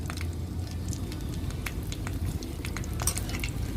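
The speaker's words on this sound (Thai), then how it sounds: "นำพริกจินดาแห้งนะคะ ลงไปทอด ตามด้วยพริกชี้ฟ้านะคะ" Dried Thai chili peppers frying in a little oil, a steady close sizzle with crackling pops and light stirring throughout, no voices.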